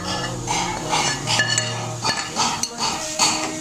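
Sugar, salt and chili go into a bowl of chanachat with steady clinks and scrapes of a spoon against the dish, close and fairly loud, in a busy, continuous run.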